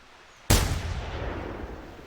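.270 rifle shot in the hunting game theHunter 2018, aimed at a whitetail about 200 meters out: quiet ambience, then a single sharp, loud report with a long rolling echo fading away.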